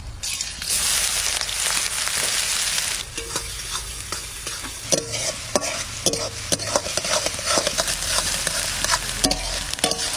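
Chopped onion hits hot oil with whole garam masala in a kadai, a loud sizzle at first that gives way to rhythmic scraping and stirring clatter over continuing frying, with no voices.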